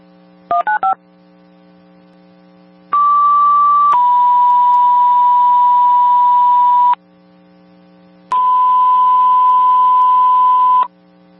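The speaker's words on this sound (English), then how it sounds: "Tones tones for Keene" Fire dispatch alert tones over radio: a quick burst of short beeps, then two long steady paging tones, a pause, and another long tone, loud and clean against a low hum.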